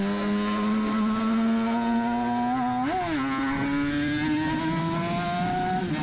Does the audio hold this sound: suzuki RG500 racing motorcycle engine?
yes